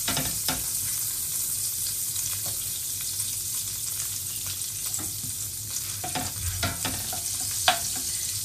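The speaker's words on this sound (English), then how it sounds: "you want about 2 tablespoons of butter. And we're just going to melt that down into there." Butter melts and sizzles in a pan for chicken with lemon and dill, a steady soft frying hiss with occasional light clicks of a utensil, no talking.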